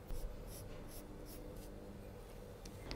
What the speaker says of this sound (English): Draw a smooth, round line here.